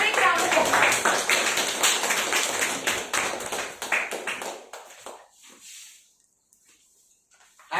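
Members of a speakers' forum meeting clap to welcome the MC, a loud, dense round of applause that thins out and fades into near silence by the end, with a few voices underneath.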